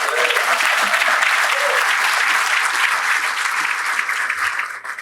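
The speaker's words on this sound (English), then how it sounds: "let's give him a round of applause" Sustained, dense applause from a sizable crowd fills the whole stretch, loud and continuous, easing off slightly toward the end.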